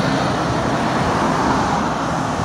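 A city bus passes on Webster Avenue near 167th Street, a loud, continuous road roar blending engine rumble and tire noise with surrounding traffic, close and steady throughout.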